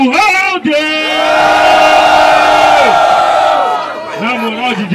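A rap battle crowd roars and shouts loudly for the third round, a dense sustained wall of cheering, whooping and yelling that swells and holds before fading as a voice calls out over it.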